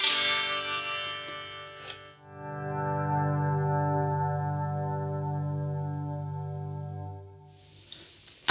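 An electric guitar is played through a Mad Professor Kosmos effects pedal: a picked attack fades, then a chord swells in slowly like a volume pedal and sustains with chorus-like shimmer before dying away. Loud and alone.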